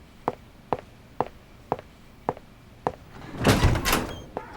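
A door in a flat is opened with a few sharp knocks or taps before it, then a loud, close rush of noise as it swings open.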